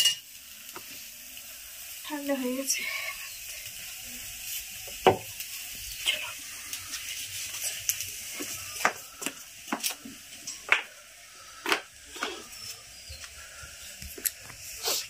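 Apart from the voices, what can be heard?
potatoes frying in a pan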